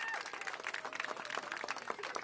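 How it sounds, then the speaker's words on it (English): A crowd at an outdoor pool season opening claps for the mayor, a dense patter of hands with faint voices mixed in, fairly distant and steady over a couple of seconds. "Let's give our mayor a round of applause"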